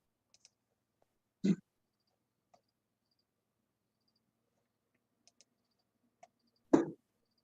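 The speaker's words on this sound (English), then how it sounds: "I actually had to click into my live stream to now go check the chat" Two sharp, isolated clicks about five seconds apart from a computer mouse during a live stream, close and fairly quiet, with faint tiny ticks between them and no talking.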